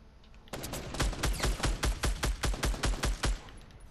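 Gunfire in Fortnite, a close, loud automatic burst of about a dozen evenly spaced shots in quick rhythm, starting abruptly after a short quiet lead-in.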